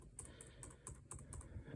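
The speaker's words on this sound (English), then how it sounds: "I just typed in completely random numbers." Rapid typing on a computer keyboard clatters away in steady bursts of clicks, soft and close over a low background hum.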